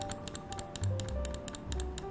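Rapid, close clicking of the right button of a Gwolves Hati S Classic Edition gaming mouse, a steady series of crisp plastic taps with a faint hum beneath.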